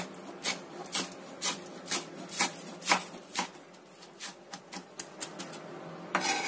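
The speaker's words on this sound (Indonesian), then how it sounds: "Kita rajang halus aja." Spring onions are finely sliced with a knife on a cutting board for an Indonesian eggplant dish, a steady run of crisp chopping taps that speed up toward the end, close and alone.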